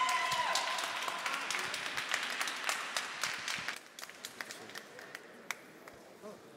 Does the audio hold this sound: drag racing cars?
no